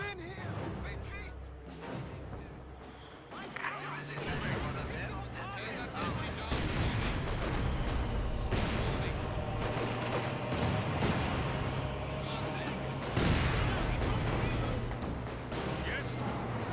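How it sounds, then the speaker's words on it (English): Artillery barrage in Company of Heroes 2 pounding a tower: dense, continuous rolling booms and blasts with crackling gunfire, sustained and loud throughout, with voices talking over the battle. "Dropping a barrage on the tower."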